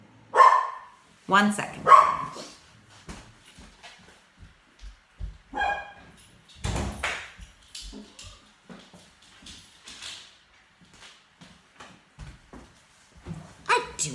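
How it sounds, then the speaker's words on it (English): A dog barks loudly a couple of times close by at the start, sharp and insistent, before a voice carries on speaking through the rest of a home phonics lesson. "I don't know what she was barking for"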